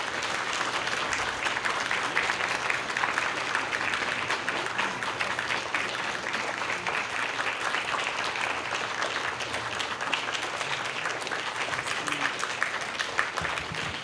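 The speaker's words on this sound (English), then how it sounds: "let's stand and give her an applause" An audience at a conference plenary session on the arts keeps up steady, full applause for several seconds at an even, fairly loud level.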